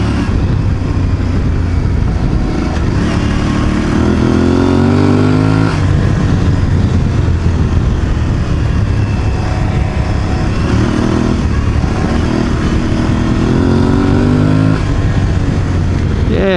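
Aprilia Tuareg 660 motorcycle engine bogging down while riding, a continuous loud drone with repeated rising and falling pitch sweeps as the throttle is worked, with fuel cut holding back the revs and wind noise underneath.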